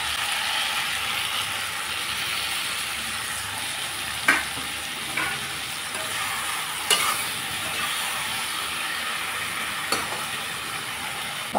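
Taro stolons frying in a pan with mustard paste and green chili, giving a steady close sizzle with a few sharp scraping clicks from stirring.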